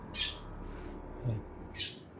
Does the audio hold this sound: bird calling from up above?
yes